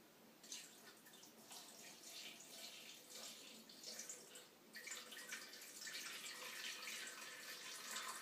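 Water poured from a container into a bread maker pan, a steady hissing splash that rises and falls in strength over about eight seconds, fairly quiet and with no voices.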